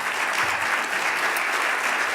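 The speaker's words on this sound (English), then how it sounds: "let me lead an applause for all of those folks" Steady applause from the audience at a winter meeting's plenary session, a dense, even wash of many hands clapping that holds at full level for the whole stretch with no talk.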